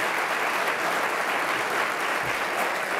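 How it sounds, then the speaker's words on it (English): Sustained, dense applause from a large audience during a governor's keynote at a 2017 environment symposium in Virginia, a steady wash of many hands clapping at once for the full three seconds without a break. "That's an applause line."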